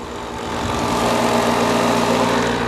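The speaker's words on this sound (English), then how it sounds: "this is washing all that rock. It's flowing down through here and then coming off the dewater shaker deck here" A gold wash plant churns rock and water down onto a dewater shaker deck, a loud steady mechanical roar with engine drone and rushing, vibrating wash, swelling up in the first half second then holding constant.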